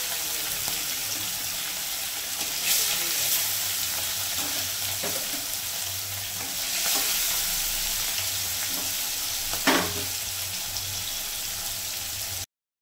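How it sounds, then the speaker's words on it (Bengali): Katla fish fries in hot oil in a pan, a dense, steady sizzle heard up close for several seconds, with occasional stirring clinks and swells in intensity and no voices. "মাছটাকে বেশি আমি কড়া করে ভাজবো না।"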